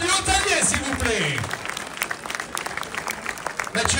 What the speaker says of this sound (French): un tonnerre d'applaudissements pour tous les bénévoles du motoclub du Hautalier